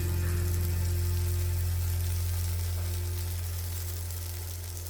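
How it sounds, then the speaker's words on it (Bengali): Tomato, garlic, tamarind and a handful of coriander leaves fry together in a pan, making a continuous soft sizzle under a loud, steady low hum that fades slightly toward the end. "এগুলো সব মিলিয়ে আরও কিছুক্ষণ ভেজে নিচ্ছি।"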